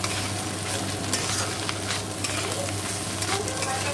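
Egg cracked over frying potatoes with a little turmeric in a pan sizzles steadily, a continuous close crackle with faint stirring scrapes and no talk.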